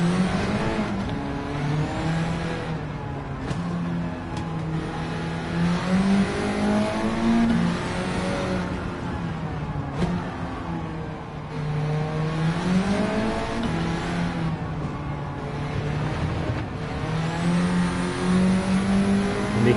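A Honda EK Civic with a swapped engine revs hard in Gran Turismo 7, the engine note climbing and dropping through repeated gear changes, loud and continuous, with brief tire squeal.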